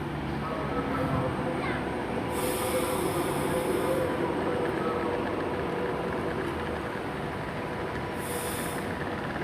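A train runs through Coventry station, with a continuous loud rumble of wheels on rails and brief high squeals, and faint background voices.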